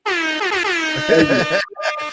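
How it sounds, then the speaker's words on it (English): A small handheld air horn gives a loud, sustained blast with a bright, brassy tone, followed by a brief second honk after a short gap. "I got my little air horn too."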